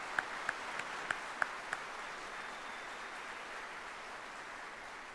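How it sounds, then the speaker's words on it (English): Audience applause for the families of retiring soldiers at an Army retirement ceremony, a steady wash of many hands clapping, with a few sharper individual claps standing out near the start. "Please join me in a round of applause for the families of our retirees."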